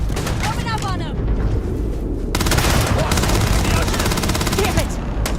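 Sustained gunfire from a firefight in the video game Starfield, with bursts and shots layered densely and continuously over combat music and shouted voices.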